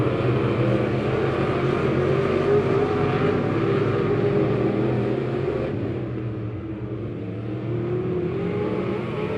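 Race cars in a heat race at Lebanon Midway Speedway roar steadily around the track, a loud sustained engine drone that dips and swells slightly as the field runs through the turns.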